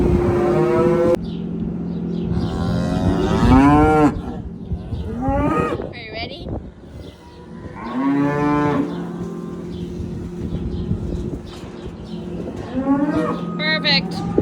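Cattle being loaded onto a farm trailer moo loudly and repeatedly, long drawn-out calls from several cows nearby, over a steady engine hum and the clatter of hooves.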